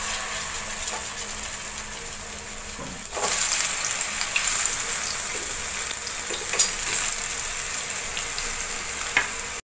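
Stuffed bananas fry in hot oil with a steady loud sizzle that swells into a denser crackle partway through, dotted with small pops and stirring clinks, no voices.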